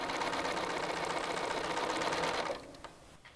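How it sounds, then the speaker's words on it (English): A sewing machine stitches fabric tiles together for a four-seasons welcome sign, running in a continuous steady whir for a few seconds before stopping, followed by a couple of faint clicks. "So I'm going to sew these together"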